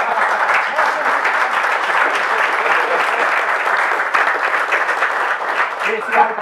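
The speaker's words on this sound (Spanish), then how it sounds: "El sueño de arrancar el aplauso" An audience at a Spanish-language Next.js tech talk breaks into sustained, dense applause, a steady wash of many hands clapping at full volume throughout, with voices mixed in underneath.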